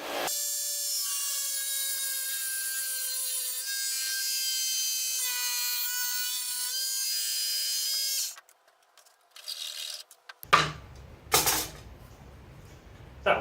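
A scroll saw cuts through a perspex sheet with a steady, buzzing whine that runs continuously for about eight seconds, then stops, leaving a few faint clicks and bumps of handling close by.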